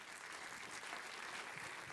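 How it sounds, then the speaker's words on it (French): Dense, continuous applause from an audience filling a hall, an even wash of many hands clapping at once without a break. "vous aurez doublement des applaudissements de la salle"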